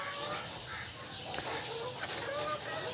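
Hens clucking and calling at a poultry farm, a mix of bird voices and scattered farmyard noise layered with people talking nearby.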